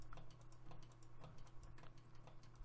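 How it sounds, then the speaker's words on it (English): A computer mouse clicks constantly while signs are placed in Minecraft. The clicks form a quick, faint, irregular ticking over a low steady hum, with no talking. "Sorry if y'all can hear the noise from me, like, constantly clicking my mouse"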